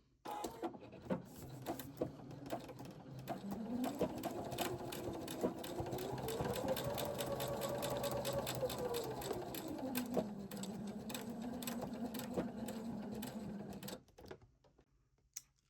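Sewing machine back stitching the start and end of a seam on a foundation paper pieced tree stocking, running in a steady rapid mechanical hum for about ten seconds, with motor pitch rising and falling, close and alone.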